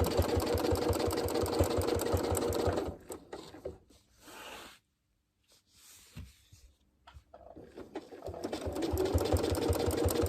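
Sewing machine stitching a quarter-inch quilting line, a rapid rhythmic mechanical chatter close by that stops for several seconds of quiet handling, then resumes at full speed.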